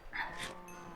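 A cow moos once in the game Minecraft, a short, quiet call over near-silence.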